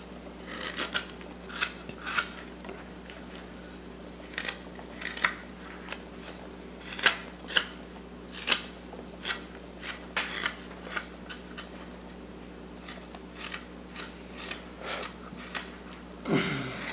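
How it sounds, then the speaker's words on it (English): Knife blade whittling and rounding off the handle of a wooden toy knife, a steady series of close, dry scraping shaves repeating irregularly over a low constant background hum. "the handle is just basically kind of shaping and rounding off a little bit"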